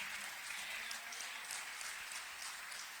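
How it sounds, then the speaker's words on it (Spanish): A church congregation claps in praise during a bilingual Spanish-English service, a dense, steady wash of applause sounding at a moderate distance. "Give a clap of praise to your God."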